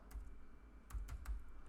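Code is typed on a computer keyboard in a quiet room: soft, fairly close key clicks come in a quick irregular run with small pauses between bursts.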